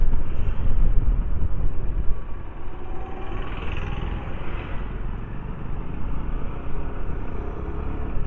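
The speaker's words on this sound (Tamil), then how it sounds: "ஆப்போசிட்டில் வண்டி வருது." On a narrow rural road near Muthupet, an oncoming vehicle rumbles past against steady engine and road noise from the moving vehicle, the passing swell loudest near the start and then settling into a continuous drone.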